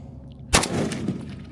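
A single sharp, loud gunshot from a Savage 99 rifle in .300 Savage, close by, with a short trailing echo afterward.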